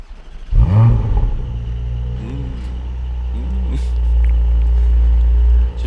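A Porsche 718 Cayman GTS 4.0 at cold start, its exhaust giving a sharp rev blip followed by a loud, steady low rumble and drone as the engine settles into a fast idle, close by.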